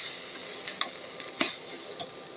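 Spices with chili powder and pav bhaji masala are stirred in a pan, making a quiet sizzle broken by a few sharp spatula scrapes and clicks.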